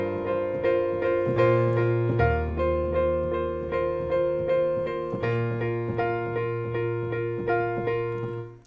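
Piano plays a song with both hands, a repeated right-hand note pattern over sustained left-hand bass notes, steady and close, with no voices.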